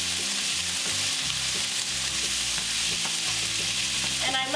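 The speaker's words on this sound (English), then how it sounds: "So now we're going to do our onions, broccoli, and carrots. Give this a quick mix." Onions, broccoli and carrots are stirred in a hot oiled pan for pork fried rice, with a steady loud sizzle and scraping strokes running throughout, close up and alone.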